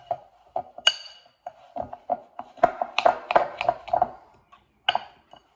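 Spoon clinking and scraping in a bowl as Oreo crumbs are mixed into a thickening mixture, a series of irregular light taps and clicks, close and fairly quiet, with no talking.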